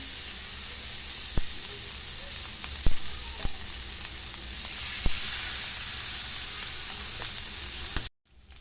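Rock fish frying in plenty of oil on a dosa pan on the stove, a steady loud sizzle with a few sharp pops and utensil clicks, cutting off abruptly near the end.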